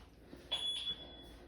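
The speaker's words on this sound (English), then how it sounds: "That is the alarm system." A faint electronic home alarm system beeps with a steady high tone over quiet room noise, fairly soft and continuous through the middle of the clip.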